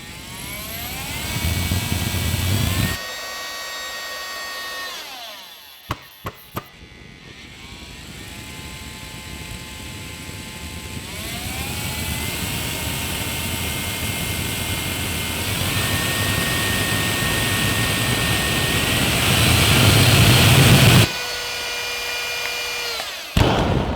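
A small 3D-printed bladeless jet engine, converted from a Dyson fan, whines and roars steadily, its pitch sweeping upward in stages, with brief sputters and pops before it spools back down.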